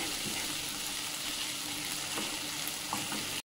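Sarson (mustard) greens frying in a pan give off a steady, dense sizzle with faint stirring, close and continuous for the whole moment.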